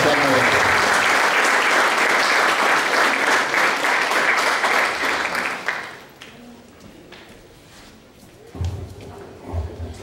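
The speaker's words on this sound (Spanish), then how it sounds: "Pido un fuerte aplauso para presentar al profesor Javier Huerta Jurado." Loud, dense applause from a seated audience at a symposium panel fills the first six seconds, then stops sharply, leaving quiet room tone and a few thumps near the end.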